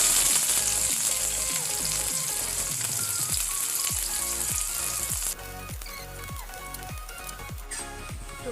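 Onions fry in hot oil with clove, cardamom and cinnamon, a loud, dense sizzle broken by repeated stirring scrapes; the sizzle drops somewhat in level partway through.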